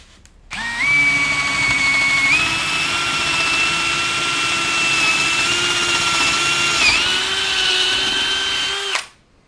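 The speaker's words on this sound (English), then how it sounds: "the next step is to drill some holes to put the jigsaw in" A power drill whines steadily for several seconds at close range, drilling holes in wood, its pitch shifting slightly partway through before winding down and stopping.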